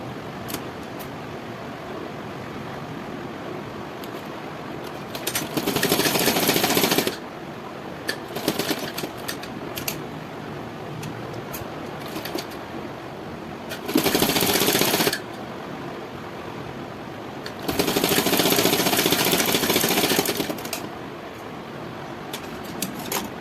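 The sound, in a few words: sewing machine stitching a princess cut blouse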